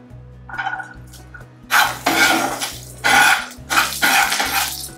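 Ginger is added to a hot pan while cooking chilli lobster at home. Bursts of sizzling frying noise rise and fall, mixed with spatula and pan clinks over a low humming drone.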